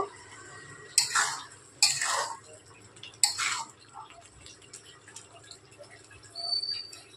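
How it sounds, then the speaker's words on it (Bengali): A spoon stirring ridge gourd poppy seed curry in a pan, three distinct scraping clinks spaced about a second apart over a quiet background hum, close by with no talk. "ঢাকনাটা খুলে ঝিঙে পোস্তটা আমি ভালোভাবে নাড়িয়ে নেব"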